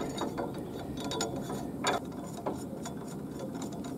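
A hand ratchet turns nuts onto a boat or utility trailer axle, giving quick clicking pawl strokes in short irregular bursts, close and fairly quiet against a low background hum.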